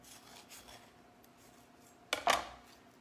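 A kitchen knife slices lengthwise through an avocado in one short, quiet scraping stroke near the end, with only faint room noise before it.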